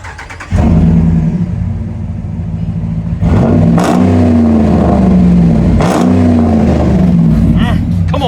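Hemi V8 in a lifted 2018 Ram 1500 Sport 4x4 revs up loudly at close range with a steady throaty idle between two sharper blips, while a person talks over it.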